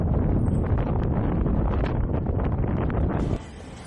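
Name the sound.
strong cold wind outdoors in Japan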